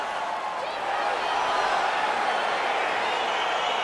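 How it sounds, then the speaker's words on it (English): A video game arena crowd in EA Sports UFC 4 roars steadily as a fight gets underway, a broad, continuous wash of cheering that rises slightly after the first second. "crowd getting excited as this fight gets underway"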